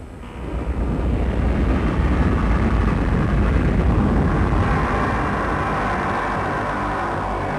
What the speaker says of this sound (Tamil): 2:30 மணி ஃபிளைட் வந்துட்டு போகுது.